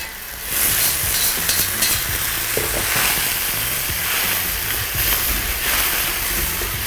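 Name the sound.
stirring blanched eggplant into sauce in a pan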